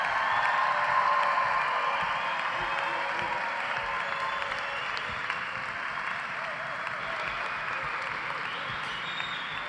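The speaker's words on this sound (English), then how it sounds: "please join me in a final round of applause for all of our engineering graduates" A large commencement audience gives a final round of applause for engineering graduates at a university fall ceremony, a steady wash of distant clapping sustained evenly with faint cheering in the hall.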